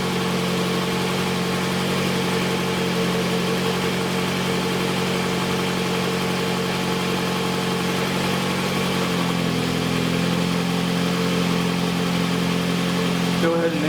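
Car engine idles steadily during a battery charging test, a continuous mid-pitched hum that shifts slightly partway through as the revs change, with a voice speaking quietly over it.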